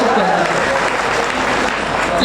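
Audience applause at a Hindi poetry recital, a dense, even burst of many hands clapping together that holds at full strength for a couple of seconds with no voices over it.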